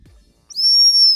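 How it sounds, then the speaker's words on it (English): A shrill, steady gundog stop whistle sounds in one sustained high blast of about three quarters of a second, close and loud, after a few quiet moments. "just blow your stop whistle and the dog sits"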